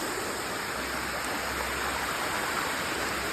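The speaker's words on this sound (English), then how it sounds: "check out this big old waterfall over here" Steady, full rush of a waterfall flowing under a small footbridge on a forest loop trail, continuous and close with no voices.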